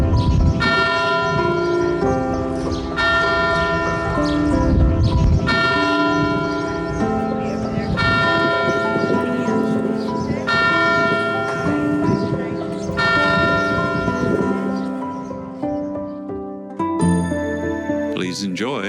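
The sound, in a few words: church bells ringing from bell tower in St. Emilion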